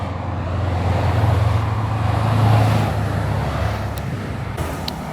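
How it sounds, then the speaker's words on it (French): A group of vintage Porsche cars driving past on a road after Le Mans Classic, a loud engine rumble that swells and fades as they pass, with a few faint clicks at the end. "Allez, petit clan de Porsche ancienne."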